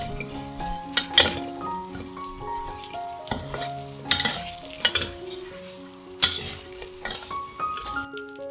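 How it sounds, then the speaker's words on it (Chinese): Taro stir-fried in oil in a wok, close sizzling punctuated by sharp spatula scrapes and clanks against the metal, with soft music playing underneath. "现在在锅里留下适量的油，将芋头倒入锅里炒一炒。"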